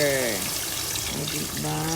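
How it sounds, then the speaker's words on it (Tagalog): Water pours into a pot of chicken soup with moringa leaves, a close, steady splashing stream while a voice talks over it. "And then we'll add our water."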